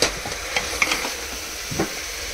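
Mutton rogan josh frying in a pan on a home stove, a steady soft sizzle with occasional stirring scrapes and small pops, moderately close.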